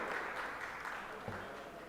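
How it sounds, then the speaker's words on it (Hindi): Applause from an audience at an Urdu festival event in Mumbai, honouring children and their teachers; a steady, fairly faint wash of clapping that holds evenly throughout with no voices. "बहुत ज़ोरदार तालियां इन बच्चों के लिए और उनके असातिज़ा के लिए"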